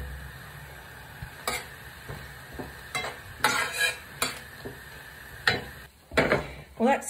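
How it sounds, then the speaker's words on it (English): A stir fry sizzles in a pan, a low background hiss broken by clattering bursts of stirring and pan knocks at irregular intervals, with no one talking. "Now we just got to wait for the stir fry."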